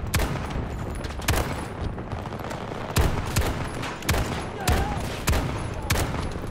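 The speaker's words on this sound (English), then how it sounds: "I'm trying to shoot this guy in the damn legs" Rapid Desert Eagle pistol shots in a video game, fired in quick irregular bursts of sharp, loud cracks over a steady background rumble.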